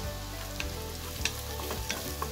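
Onion frying in oil with turmeric powder stirred in, a dense continuous sizzle with faint occasional utensil scrapes, close and even throughout.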